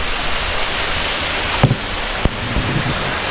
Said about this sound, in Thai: ก็เป็นน้ำตกขนาดเล็กครับน้ำตกขนาดเล็ก